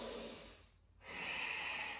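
Forceful nasal breaths of thoracic Bhastrika yoga breathing in a hatha yoga session: a long sharp exhale, a short pause, then another strong hissing breath, close and loud.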